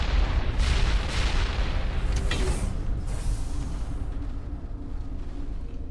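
A large explosion in the Mass Effect video game rumbles as a continuous, dense roar of deep booming and crackling debris, loud and sustained throughout with no voices.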